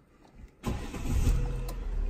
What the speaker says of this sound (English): Now I'm going to start the baby car with the good battery